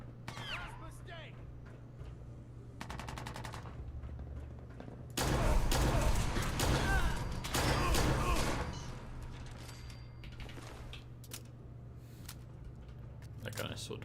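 Gunfire in Fallout 4, a burst of overlapping shots in the middle of the clip over a steady game hum, with scattered sharp impacts before and after.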